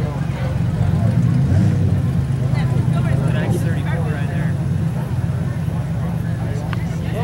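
Modified front-wheel-drive bump and run race cars roar around a dirt track in Standish, Michigan, a steady loud engine drone under an announcer's voice and crowd noise.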